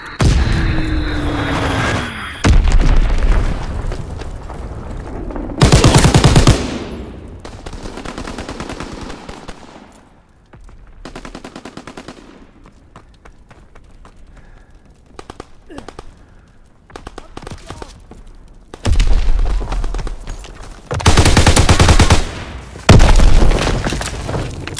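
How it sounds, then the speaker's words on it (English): Enemy bombs and gunfire in a Call of Duty WWII Domination multiplayer match: loud bursts of automatic fire and booming explosions arrive in several separate blasts, with quieter stretches of scattered shots and ambience between them. "Enemy bomb incoming! Get to cover!"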